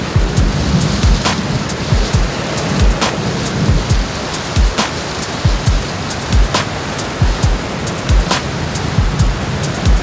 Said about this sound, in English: I'm going to run my beats and my thunder together, and I'm going to press play